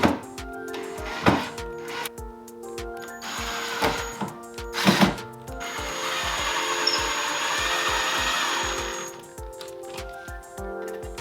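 Power drill driving into a brace plate on a dresser, with a few short tapping and knocking sounds first, then a sustained whirring run of several seconds nearby.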